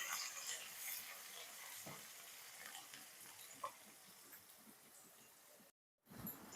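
Onions and cut green chilli fry in hot oil with a steady, close sizzle and occasional stirring scrapes, broken by a brief moment of silence near the end.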